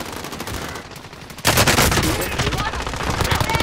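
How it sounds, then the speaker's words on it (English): Automatic gunfire in a video game, a battle-royale match with a closing gas zone: lighter bursts at first, then a sudden, loud and sustained rattle of rapid shots that runs to the end. "I'm taking fire! Taking shots."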